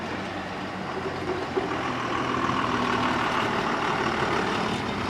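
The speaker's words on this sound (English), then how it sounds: "Got some buses coming." Buses grind along a mountain road, a steady diesel engine drone growing slightly louder as they approach, broad and continuous with no voices.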